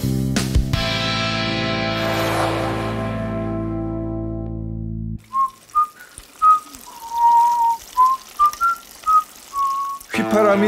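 A person whistles a short, bright tune of about a dozen rising and falling notes, close and clear, after a loud sustained tonal chord that cuts off abruptly.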